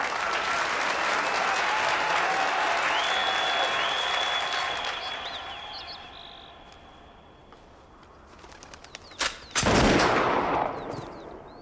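Hunting gunfire outdoors in the cold: a steady open-air noise with faint distant calls, then near the end a couple of sharp, loud gun blasts close by.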